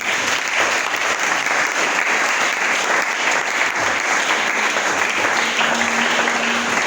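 A church congregation applauds in praise of God during a service, a loud, dense and sustained round of clapping that carries on unbroken throughout.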